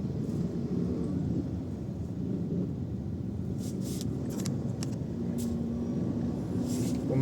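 Steady road traffic rumble on a rough, potholed, muddy road in San Isidro, Bagong Sangitan, a continuous low drone of idling and crawling vehicles with a few faint higher hisses and no speech.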